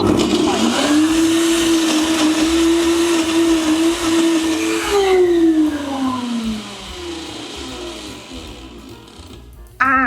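A powerful blender whirs steadily as it blends an ice cream smoothie, a loud close motor drone that shifts pitch as the mixture thickens, then winds down near the end.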